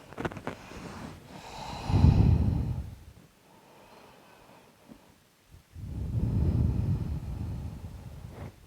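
Deep breaths drawn during a lower-body yoga stretch in a pigeon pose fold, two long, slow, airy breaths close to the microphone, separated by a quiet pause, with no speech.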